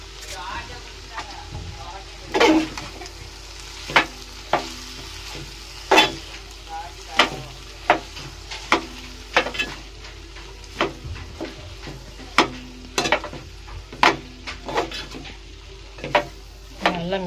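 Potato upma is worked in a pan with repeated sharp scrapes and taps of a spoon against the metal, falling in an uneven rhythm over a low, faint sizzle.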